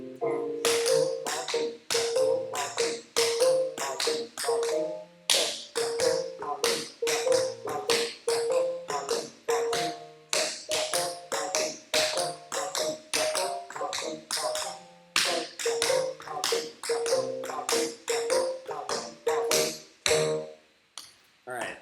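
Tap shoes rap out repeated shuffle ball change steps during a middle and high school tap class, with crisp rapid metallic clicks in steady rhythmic groups, a short break midway and piano music underneath.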